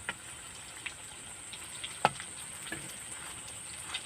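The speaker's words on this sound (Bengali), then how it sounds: "দেখুন বন্ধুরা, আমার এক পিঠ ভাজা হয়ে গেছে। এবার আমি উল্টে দিচ্ছি।" Potato and soybean fritters frying in oil after being flipped make a quiet, steady sizzle with a few sharp pops and crackles, one clearly louder near the middle.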